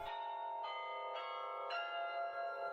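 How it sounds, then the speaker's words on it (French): The campanile carillon of Namur, Belgium, ringing four clear resonant strikes at a steady pace, each tone sustaining and overlapping the next, with no other sounds. "le campanile et son carillon"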